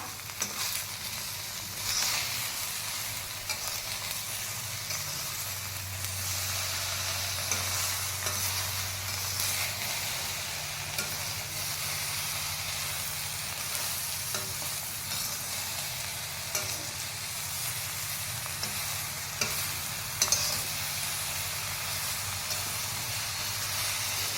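Pea pods roasting with salt in a pan, a continuous dry sizzle and hiss with scraping stirs across the whole stretch, steady and close, with no voices.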